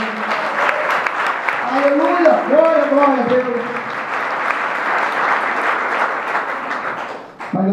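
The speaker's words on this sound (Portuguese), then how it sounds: "Dê uma salva de palmas ao Senhor" A church congregation breaks into sustained, loud applause during a Portuguese-language youth worship service, with people shouting praise over the clapping throughout.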